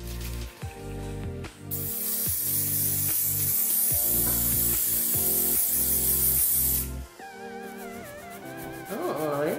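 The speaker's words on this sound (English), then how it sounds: "I'm gonna use some hairspray. So I'm just gonna spray it all up on there" Hairspray sprayed from an aerosol can onto a wooden surface marked with permanent marker, a loud close hiss running nearly continuously for several seconds before stopping, then a second short burst.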